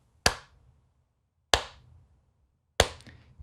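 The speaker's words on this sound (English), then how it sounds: "DJ claps slowly." Three slow, sharp hand claps, each spaced over a second apart and ringing briefly in a quiet room, with no talking.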